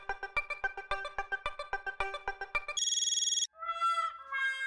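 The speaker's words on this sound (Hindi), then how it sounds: "मैं अभी उससे फोन करता हूं। लगा फोन लगा भाई।" A telephone rings out as a call is placed: a rapid repeating electronic ring pattern, then a high steady tone and a short melodic jingle, clear and close with no voices.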